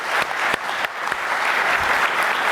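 An indoor audience applauds panelists at the end of an evening talk, a dense burst of clapping heard up close with a few sharper individual claps standing out.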